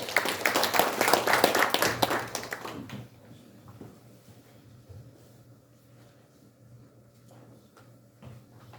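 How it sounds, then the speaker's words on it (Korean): Audience applause at a ceremony launching a committee to seek honours for independence activists, a dense burst of clapping for about three seconds that then fades to a quiet room with faint shuffles. "박수 부탁드립니다"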